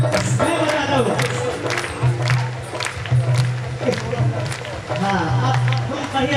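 An audience at a live Bhojpuri arkestra stage show claps together in a dense, continuous patter, loud and near, while a low droning tone from the stage sound system runs underneath and voices murmur through it.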